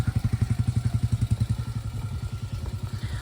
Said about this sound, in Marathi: बाईक बाईक चढत नाही आहे पूर्ण चिखल आहे